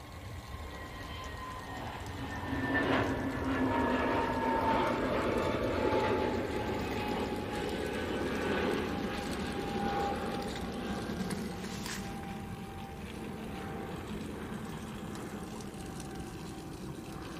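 A jet airliner departing Manchester Airport, a distant rumbling engine roar that swells after a couple of seconds and holds for a long stretch before slowly easing, with a faint whine above.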